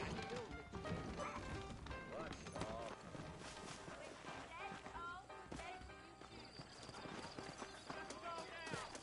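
Horse hooves clip-clop in Red Dead Redemption on a PS5, rhythmic hoofbeats mixed with game music, clatter and voices talking over them, all quite faint.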